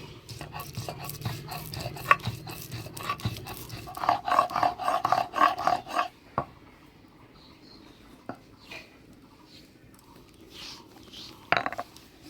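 Cashews being ground into paste for Bengali mocha ghonto in a village kitchen: rhythmic scraping and rubbing strokes that come in quick bursts, louder in the middle, then fade to sparse, softer scrapes.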